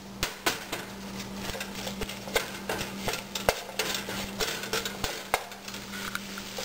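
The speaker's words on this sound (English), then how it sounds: "we're going to first start by mixing the ground turkey, kale, black-eyed peas, and nutmeg in a skillet over medium heat" Ground turkey, kale, black-eyed peas and nutmeg stirred in a skillet over medium heat, with regular sharp spatula knocks and scrapes against the pan over a low sizzle and a steady hum, close and with no talking.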